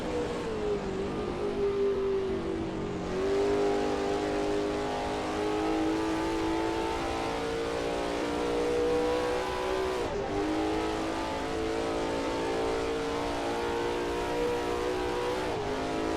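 An old 1939 race car engine in Assetto Corsa drones steadily at high speed, its pitch sagging and climbing through gear changes and braking over a long stretch of continuous, close running.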